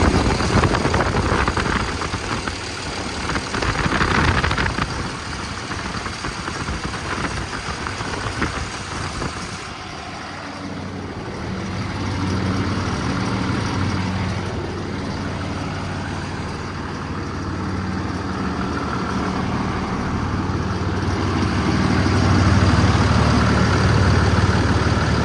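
A 2019 International MV truck's Cummins diesel engine rumbles steadily at idle throughout, with low droning tones and slight shifts in intensity, close up and loud.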